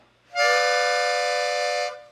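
A single sustained harmonica chord, bright and reedy, swells in and holds steady for about a second and a half before stopping.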